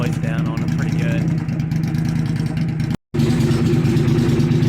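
Triumph Thruxton R motorcycle engine running steadily up close, a loud continuous low rumble throughout with a brief dropout near the end.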